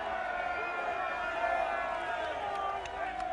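Crowd cheering at the English Greyhound Derby final as the runners are led out, a steady roar of distant crowd noise under a commentator's voice.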